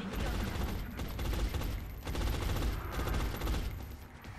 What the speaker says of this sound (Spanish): Fuego de contención en el blanco.